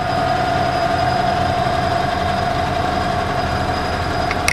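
A lathe spinning steadily at around 540 RPM in a workshop, a constant close mechanical hum with a sustained whine and no voices, ending in a faint click.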